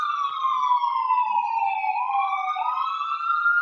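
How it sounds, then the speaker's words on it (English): Two ambulance sirens passing by, a loud wailing tone that slides down and back up with a second siren joining, heard continuously from a moderate distance. "That was 2 ambulances going by."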